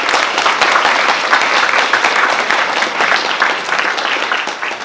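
Audience applause at an ACLU panel event, steady dense clapping that stays loud and even throughout with no voices over it.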